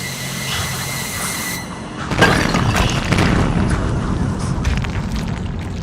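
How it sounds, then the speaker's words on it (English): A meteor exploding in the Kholat video game: a sudden deep boom after a steady hum, then a long heavy rumbling roar that stays loud and sustained. "if you stand there too long by the meteor and listen to the log, it explodes"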